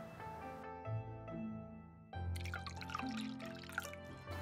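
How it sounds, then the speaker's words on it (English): Green tea is poured into a cup during a traditional gathering in Hangzhou, giving soft trickling and dripping liquid sounds with faint clinks, close and quiet with no talking. "The sound of pouring the tea."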